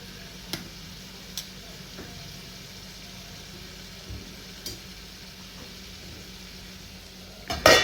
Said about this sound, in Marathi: यासाठी ती पुन्हा पुन्हा ढवळायची.